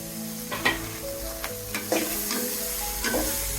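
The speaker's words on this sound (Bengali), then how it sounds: "আমি টমেটো গুলা ঢেলে দিচ্ছি।" Tomatoes go into a hot pan of cooking curry and sizzle loudly, with a few clattering stirs of a spoon against the pan over the continuous frying hiss.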